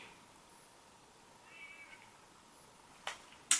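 A house cat meows quietly indoors, with soft, faint calls over a low, quiet background, then a brief sharper sound near the end.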